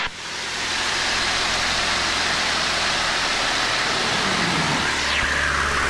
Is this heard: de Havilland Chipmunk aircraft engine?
yes